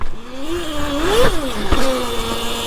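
A Sur-Ron Light Bee X electric bike fitted with a Torp TM25 motor and JXR chain kit is ridden, giving a loud, close whine that rises and falls in pitch with throttle, with clattering chain noise underneath.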